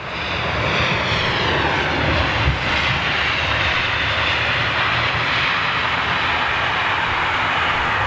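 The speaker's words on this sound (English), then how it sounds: "There's your Finnair 350." Finnair Airbus A350 jet passing at an airport, a loud sustained broadband engine roar that holds steady throughout with no talking.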